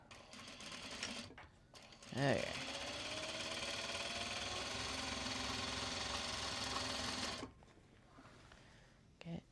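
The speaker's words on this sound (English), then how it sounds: "Finally at the sewing machine." A sewing machine stitches fabric bags in a steady, close, mechanical whirr that runs unbroken for about five seconds, with a brief spoken word before it starts.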